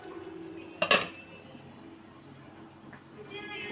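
A single metallic clank as a lid is set on a cooking pot of mutton curry simmering on low heat, close and brief, followed by quiet kitchen background.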